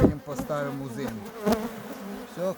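Honeybees buzz close by at a hive in a dense, wavering drone, with pitch shifting as they move around.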